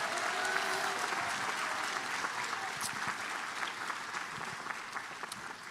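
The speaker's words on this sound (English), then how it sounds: "Let's give a big round of applause to our extraordinary folks who helped you through this" Sustained applause from an audience at a School of Public Health commencement ceremony, a dense, even clatter of many hands that holds steady and slowly tapers, heard from within the crowd.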